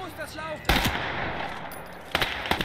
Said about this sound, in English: it's been quite a brutal firefight there.